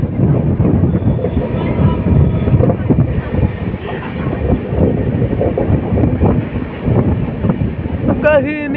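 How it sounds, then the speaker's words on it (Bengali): A North East Express train rumbles along the rails while taking a curve, with continuous clatter and wind buffeting, loud and close, with a brief squeal near the end. "দেখো ট্রেন কার্ভ নিচ্ছে"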